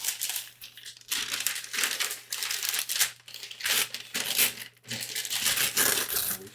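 A flimsy little paper bag from a comic book shop order crinkles and rustles in close, irregular bursts with brief pauses, no talking.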